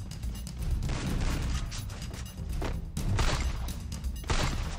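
Gunfire from an M500 in a video game: a series of heavy, booming shots in quick bursts, loud and close, with short gaps between volleys and no talk.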